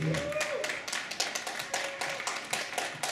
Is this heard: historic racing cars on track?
no